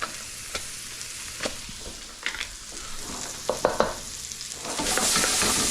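Onions and freshly added garlic fry in a pan for a stir-fry, giving a continuous hiss broken by several sharp stirring scrapes and clatters. The sizzle swells louder toward the end.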